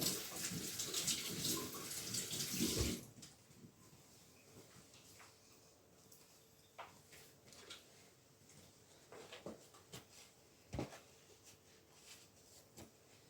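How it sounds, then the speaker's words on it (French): A pastry scraper is rinsed under a running kitchen tap, with a loud gush of water at first, then quieter drips and small clatters. "j'ai une petite corne comme ceci que je vais venir d'ailleurs rincer"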